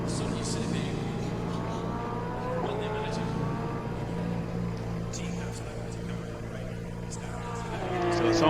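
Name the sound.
race car engine in Assetto Corsa Competizione video game at Monza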